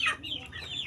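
A backyard chicken gives a short, close cluck, a single quick vocal burst that fades into a low murmur of background noise.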